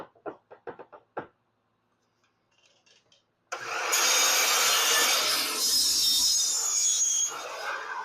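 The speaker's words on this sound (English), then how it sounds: "Love this Bosch miter saw." A few sharp knocks and handling clicks come first, then a Bosch miter saw spins up and cuts wood with a loud, close, sustained whine that eases slightly toward the end.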